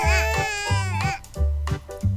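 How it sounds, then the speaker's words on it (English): An animated baby cries in repeated wailing bursts, loud and close, inserted as a read-aloud sound effect in a children's cartoon story, with no talk over it. "You cried."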